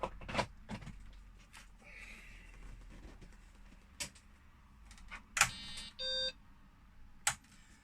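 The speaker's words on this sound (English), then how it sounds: "Very quickly turned on, it makes the standard beepy beep noise" A BBC Micro Model B home computer gives its short electronic startup beep amid faint clicks and clunks of handling equipment, quiet and close.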